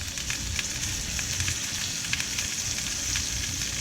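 Bacon-wrapped asparagus bites brushed with yakitori sauce sizzle and fry steadily on the heat, a loud, continuous crackling hiss with scattered pops, close by and with no talking.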